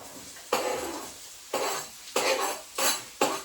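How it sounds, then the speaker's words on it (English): Five separate bursts of sizzling hiss, each starting sharply and fading, as carrots hit a hot frying pan at short intervals. "Let's add in our carrots to the pan, get them frying."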